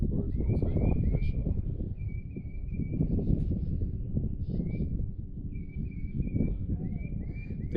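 Birds sing by the Caney Fork River during a kayak fishing trip, their thin, high calls repeating faintly over a loud, low rumble of water and wind.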